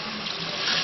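Water poured into a pan of seafood marinara after sherry, a brief steady splashing rush, close and moderately quiet.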